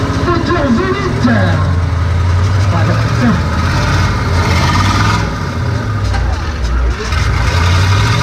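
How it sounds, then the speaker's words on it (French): A V8 monster truck built for demolition roars and revs continuously at a show, its loud engine drone filling the scene while an announcer talks over it. "Moteur V8."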